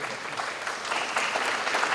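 An audience at an international circular economy forum in Peru claps to welcome the president of the development bank COFIDE, a dense, steady round of applause that swells slightly louder partway through.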